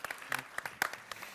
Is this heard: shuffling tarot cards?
no